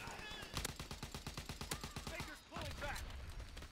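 Rapid automatic gunfire from Call of Duty: WWII multiplayer rattles in fast regular bursts, loud and close, broken by a short pause before more shots and distant battle noise.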